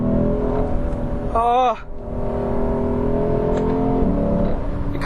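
A V8 sedan engine, a non-ISF Lexus-style performance sedan, drones and revs steadily up close throughout, with a brief voice exclamation partway through.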